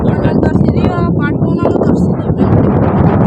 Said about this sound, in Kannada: ಫುಲ್ ಗಾಳಿ ಬೇರೆ ಬರ್ತಾಯಿದೆ